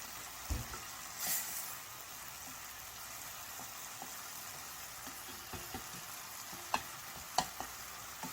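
Namul greens stir-fried with garlic in a pan for a Jeongwol Daeboreum holiday dish: a low, steady sizzle runs throughout at a quiet level, with a few brief scraping and clattering touches of a utensil.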